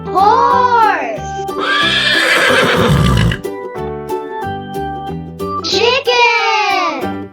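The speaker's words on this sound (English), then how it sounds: "Horse." A horse whinnies loudly in two long descending neighs at the start and end, with a burst of noisy sound between them, all over bright children's-song music in a toddlers' farm-animal lesson.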